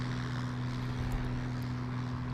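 A P-40E-1 Kittyhawk propeller fighter in War Thunder roars past in a steady, loud flyby with a droning engine tone and no talk.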